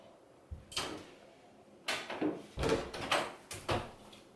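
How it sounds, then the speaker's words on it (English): A door opening indoors, heard as a few knocks and clunks of handle and frame, some quick and clustered, fairly close and moderately loud with no talking. "scary, the door opened."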